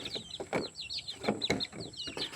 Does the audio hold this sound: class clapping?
no